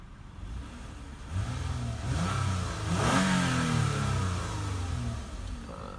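The V6 engine of a 2014 Toyota Avalon XLE Touring revs up from idle. The pitch rises and swells, then settles back down, heard fairly close and moderately loud with no talking.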